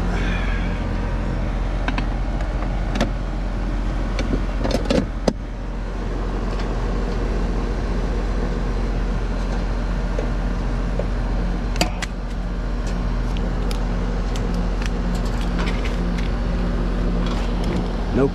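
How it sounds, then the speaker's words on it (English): Outdoor air conditioner condenser unit runs after being plugged in, giving a steady low hum and drone with occasional clicks and knocks, continuous and fairly close. "Which means this condenser should run when I plug this in."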